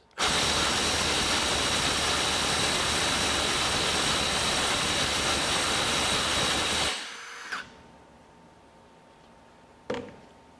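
A Milwaukee 2853 M18 FUEL cordless impact driver hammering hard against a 500 foot-pound load through an adapter, a loud, steady buzzing rattle that runs for about seven seconds, then stops, leaving two brief clicks.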